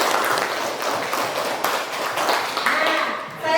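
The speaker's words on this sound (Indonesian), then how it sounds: "tepuk tangan buat Nadine" A classroom of students claps for a classmate, a dense, steady patter of many hands lasting a few seconds, with some voices mixed in.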